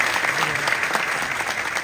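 An audience breaks into sustained applause to welcome a police chief onto the stage at an event for young people, dense steady clapping from a crowd throughout.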